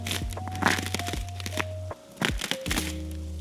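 Sharp cracking and snapping sounds from ice-covered trees in an ice storm ring out repeatedly nearby, brittle and crisp, with steady humming tones in the background.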